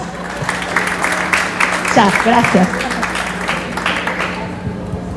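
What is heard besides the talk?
applause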